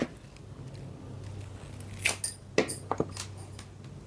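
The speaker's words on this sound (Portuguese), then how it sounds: "eu pego um palito de churrasco, meço de um lado do vaso do outro, onde eu quero que ela fique, e vou cortar" A wooden barbecue skewer is cut to length while an orchid is being repotted, giving a few sharp snaps and clicks about two seconds in and a handful more after, close up and fairly quiet.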